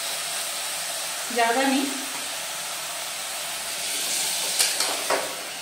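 A loud, steady sizzling hiss as water is poured into a hot pan of bottle gourd and chana dal, with a brief spoken phrase early on.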